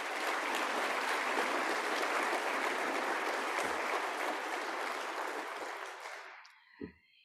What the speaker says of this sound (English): A big round of applause for the women entrepreneurs.